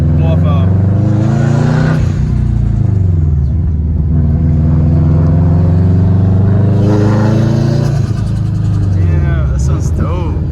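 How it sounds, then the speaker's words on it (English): A 2004 Subaru STI with a newly installed front-mount intercooler and loud exhaust revs hard, its turbo blow-off valve venting between pulls; the engine drones loudly and close throughout, with excited voices talking over it. "Listen to the blow off valve."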